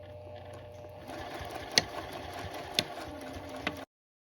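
A sewing machine runs stitching a hoodie seam forward and back, a low steady motor whir with faint rattle and a few sharp clicks, then stopping abruptly into silence.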